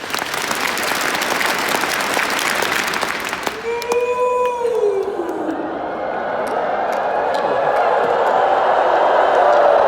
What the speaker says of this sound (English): If you learned a lot since you've been in Salt Lake City, clap 10 times.